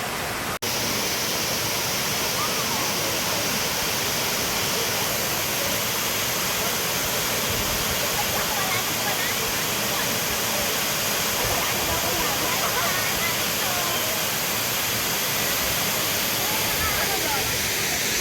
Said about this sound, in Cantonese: 真係水爆嘅。